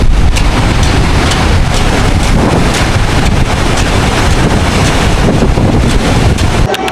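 Strong wind buffets the microphone with a steady loud roar, mixed with the wash of surf on Boracay beach during the monsoon, continuous for the whole stretch and cutting off abruptly at the end.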